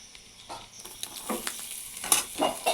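Chopped garlic stirred and fried in hot fish oil for a Bengali potato-and-eggplant dish, a soft sizzle broken by several scraping stirs of a spatula, close and moderately loud, with no talking.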